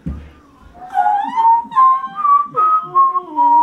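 Someone whistles a short, wavering tune up close, a few sliding, uneven notes after a quiet start.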